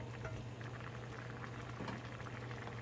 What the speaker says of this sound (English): So just leave this to come to a nice boil.